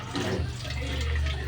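Water is poured into a pot of simmering Filipino menudo, a dense, rushing splash with a low burbling undertone that continues throughout.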